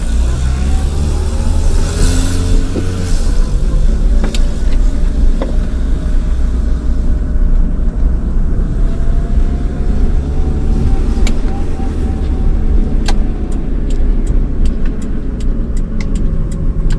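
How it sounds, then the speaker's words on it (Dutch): A WP Pro1 car engine starts and keeps running, a steady loud idle rumble filling the whole stretch alone, with a few faint clicks and ticks toward the end. "Nou, hij start direct dus."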